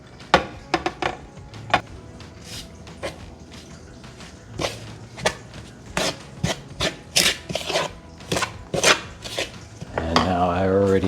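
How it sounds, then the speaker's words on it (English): Grated butter is cut into a flour mixture for homemade biscuits: a series of uneven, close scraping and cutting strokes, some sharp, with a voice briefly heard near the end. "Cut it into your flour mixture."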